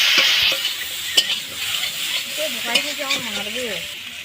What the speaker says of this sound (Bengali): এখন কোলা আলুগুলো দিয়ে দেবো দিয়ে কষে নেবো সব কিছু মশলা মশলা দিয়ে কষে নেবো